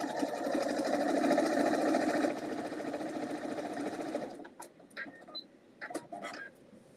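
A sewing machine stitches fabric pieces in a fast, close, continuous whir for about four seconds, then stops, leaving a few faint clicks and handling sounds.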